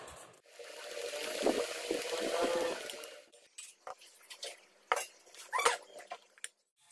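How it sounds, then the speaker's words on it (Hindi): Flour is stirred bit by bit into leftover sugar syrup in a bowl to form a runny batter, giving a continuous wet swishing at first, then scattered utensil clinks and scrapes, close and quiet. "सो मैं अब इसमें थोड़ा थोड़ा करके आटा मिक्स करूँगी और फिर हमें इसे मिक्स करके इसका एक पेस्ट बनाना है"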